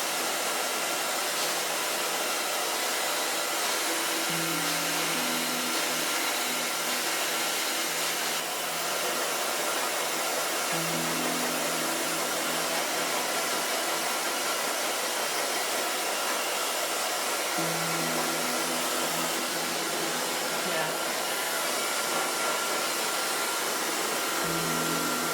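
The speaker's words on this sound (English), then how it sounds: "Gonna blow dry this with medium large brush." A hair dryer runs continuously while blow drying hair with a medium large round brush, a loud steady whoosh whose pitch shifts slightly as the airflow changes. It goes on for the whole stretch with no talking.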